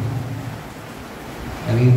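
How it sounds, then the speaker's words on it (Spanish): Rain falls steadily during a Catholic Mass for a Marian feast of Our Lady of the Rosary, a soft continuous patter with a low rumble swelling near the end. "vamos a escuchar el murmullo de la lluvia"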